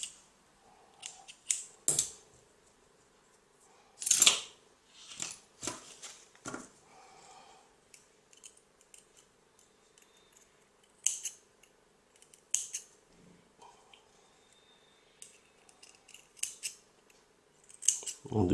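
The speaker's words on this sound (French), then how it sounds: "je coupe à environ un demi-centimètre en dessous du tank" Scissors snip coil wire on a Serpent RDTA vape tank in sharp, close cuts spaced irregularly, with a few quick clusters of snips amid quiet handling.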